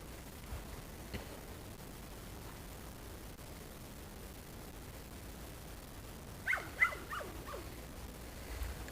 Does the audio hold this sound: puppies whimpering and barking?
yes